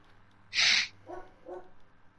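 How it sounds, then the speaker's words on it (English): A dog barks at night, one sharp loud yelp followed by two softer, shorter barks, heard alone against a low background hum. "I don't even ask why my dog's barking at one in the morning."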